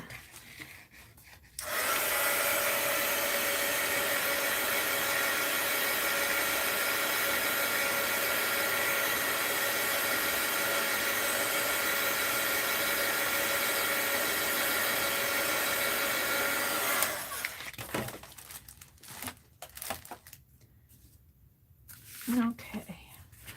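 Hair dryer drying a mixed-media art journal page, a steady close whooshing roar that runs for about fifteen seconds before cutting off, followed by quieter handling sounds and soft talk.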